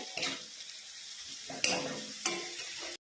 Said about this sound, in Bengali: এবার মশলাটা ভালো করে কষে নেব যতক্ষণ তেল না ছাড়ে